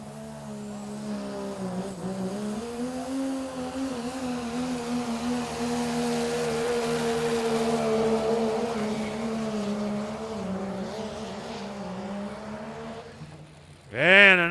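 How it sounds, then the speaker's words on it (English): The truck Secondhand Smoke making a run at a spring truck jam, its engine roaring in a sustained, slowly rising drone for several seconds before a sharp, loud rev burst at the end. "Remember this truck, Secondhand Smoke, Hank Carlton."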